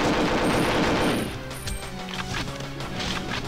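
Automatic gunfire in the N64 game Perfect Dark, a loud, dense burst of shots for just over a second, then quieter scattered game sounds and tones.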